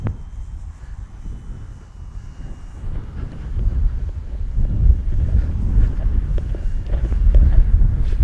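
Wind buffeting and roaring across an outdoor microphone while a large scale RC glider, an Arrows RC SZD-54, flies in gusty conditions; steady low rumbling that builds louder toward the end.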